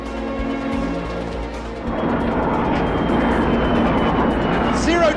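Airplane engines roar steadily during a zero-gravity parabolic flight, swelling louder and denser as the aircraft accelerates toward about 1.8 G, a continuous near cabin rumble with faint background voices.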